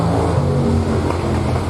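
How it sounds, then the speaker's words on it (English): Drag racing cars at a 1960s car show keep up a steady, loud engine rumble in the background, with no clear breaks across the short stretch. "we want to apologize for a little bit of background noise with the drag racing going on in the background"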